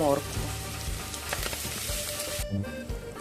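Chopped onion and grated vegetable sizzling in oil in a pot, a steady close crackle with occasional stirring clatter and a brief knock near the end.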